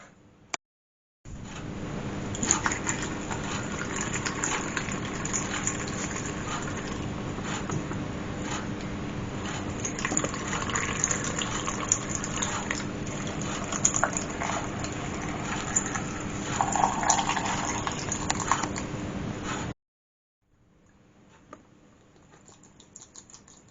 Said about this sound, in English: then we'll just whack our onions in and top up with vinegar